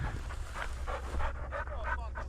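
A hunting dog pants hard in quick rhythmic breaths, close to the microphone outdoors on public land during a rooster hunt, with steady wind-like background noise.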